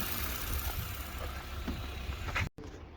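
A car engine idling steadily up close, a continuous low rumble with a brief cutout near the end.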